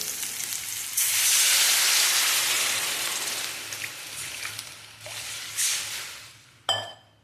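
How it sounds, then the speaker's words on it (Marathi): Water poured into a hot pan while making masala Maggi noodles with tomato, onion and chilli: a sudden loud hiss and sizzle that slowly fades, then a couple of small splashes and a clank at the end. "तर मी इथं पाणी ओतत आहे"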